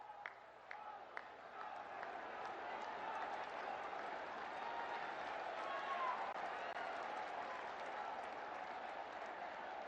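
A rally crowd gathered to welcome the Prime Minister applauds in a sustained wash of clapping, faint and distant, with a few sharper claps standing out near the start.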